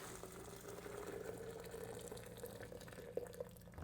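Near-boiling water, about 200 degrees, pours steadily into a container in a garage, a continuous close gurgling stream with a faint clink near the end.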